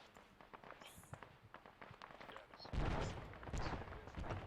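Distant gunfire from a firefight in a military simulation game pops in scattered, muffled cracks, swelling into a denser stretch of shooting partway through, while quiet movement and faint voices carry on nearby.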